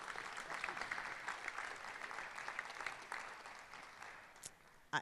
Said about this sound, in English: Applause for the parents, because this doesn't happen easily